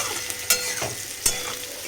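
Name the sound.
food frying in a blackened wok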